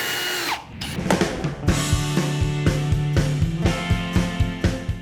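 A power drill fitted with a laser guide bores into a wooden front chair leg, loud and close, its whine stepping through pitch changes with rhythmic pulsing bursts as the bit cuts, with no talk over it.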